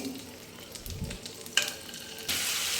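Chicken tandoori frying in a pan with its masala, a close sizzle with a sharp clatter midway and a louder burst of frying near the end.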